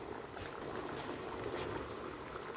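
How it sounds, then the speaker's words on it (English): Water coming to a boil in a pot for yellow pilaf, a soft steady bubbling hiss that stays even and faint throughout, no talk. "Bring that to a boil."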